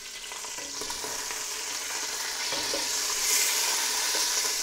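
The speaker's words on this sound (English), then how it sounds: "so we got the sausage going here" Sausage frying in a pan for an Italian lentil soup, a loud, continuous close sizzle that builds slightly, heard alone without talk.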